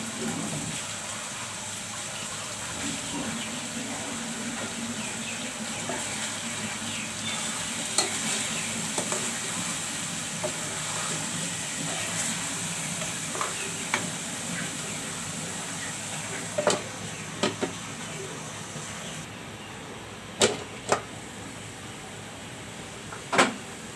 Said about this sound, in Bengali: এখন আমি একটু পেঁয়াজ দিয়ে দিচ্ছি